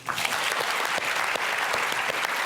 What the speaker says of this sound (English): I have to, again, thank you and applaud you, Dr. Taban.